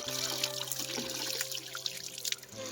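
Water pouring and trickling steadily at close range over a low background hum, with no talk.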